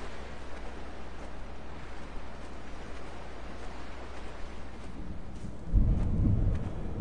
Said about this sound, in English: Sounds like rain. Thunderstorm, maybe.